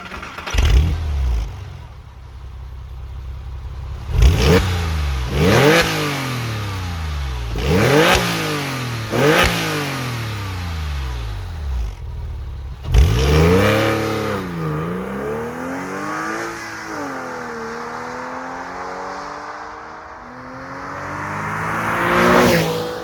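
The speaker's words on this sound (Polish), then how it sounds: "dźwięk silnika prawdziwe Porsche, bardzo charakterystyczny" A 2002 Porsche 911 Carrera (996.2) engine revs hard through several rising gear pulls, each climbing then dropping, followed by a longer sustained acceleration, loud and close.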